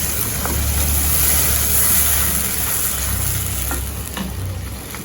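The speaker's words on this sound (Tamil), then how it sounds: "இது ஒரு அஞ்சுலேருந்து எட்டு நிமிஷம் நல்லா கொதிக்கட்டும்" Thick garlic-tomato chutney bubbling in a pan, a steady close sizzle and hiss with occasional soft pops, no voices.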